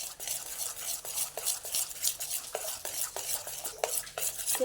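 A spoon stirring gram flour batter in a bowl: repeated scraping swishes in an uneven, fast rhythm, close and fairly loud, with no one talking.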